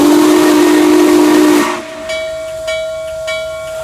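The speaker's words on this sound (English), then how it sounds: "With 2 blasts on the whistle, the engineer opens up the throttle" The whistle of N&W 611, a steam locomotive, blows one loud, long, steady blast over hissing steam, then cuts off, leaving a fainter sustained tone with a few short bursts.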